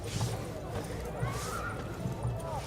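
A horse in The Witcher video game whinnies, with a rising and falling neigh and clip-clopping hooves, heard under someone talking and game background sounds.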